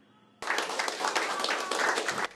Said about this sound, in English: subdued supporters clap as their freshly defeated candidate, Kim Moon-soo, makes his own stage appearance